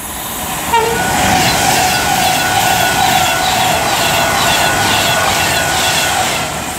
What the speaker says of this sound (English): now about to pass by is going to be a Pendolino from London to,